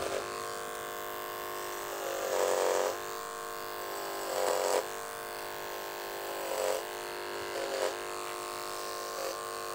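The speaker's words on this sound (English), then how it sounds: "I have to come against the grain so the hair feeds into the clipper" An electric hair clipper buzzes steadily while cutting a man's hair against the grain for an undercut, with a constant hum that swells in four short bursts as it bites into the hair.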